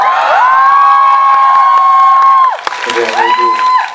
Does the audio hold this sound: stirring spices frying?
no